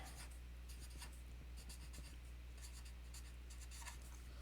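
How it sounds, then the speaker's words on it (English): Pen or pencil writing on paper while working a counting math problem, soft scratchy strokes coming in short bursts over a steady low hum, close and faint, with no speech. "I'll actually write this one out on paper."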